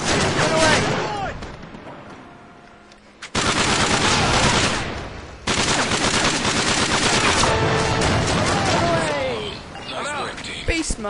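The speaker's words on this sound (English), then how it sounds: "I only used a shotgun then" Shotgun fire in Modern Warfare 3 survival on a village map, loud booming blasts and dense gunfire that fill most of the stretch, with a brief lull near the start and a voice talking amid the shooting.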